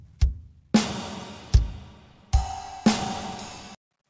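Black metal drum pattern in a depressive style, each snare hit layered with an extra heavily reverbed snare; five loud hits with long washy tails over low kick thumps, no voices.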